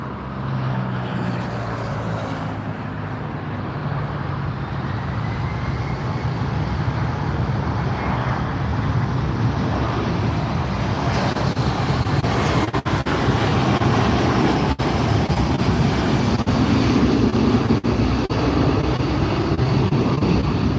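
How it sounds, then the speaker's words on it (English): An airliner arriving at LAX from Kalispell, heard as a broad, steady jet roar that builds slowly and fills the whole stretch, with a continuous dense rumble and no talk. "Here comes the plane coming in from Kalispell."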